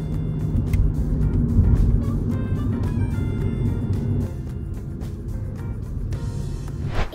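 Steady low rumble of a family car driving along a road, engine and tyre noise continuous and fairly loud throughout, easing slightly toward the end, with no talking.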